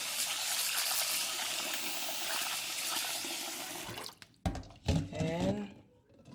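Tap water runs in a strong, steady gush while oysters are rinsed, then cuts off abruptly, leaving short splashes and sloshing as the shellfish are handled in the water.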